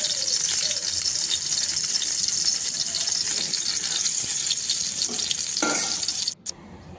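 Whole cumin seeds and a few bay leaves sizzle loudly and steadily in hot oil left from frying eggplant, a close, continuous crackling hiss that cuts out abruptly near the end.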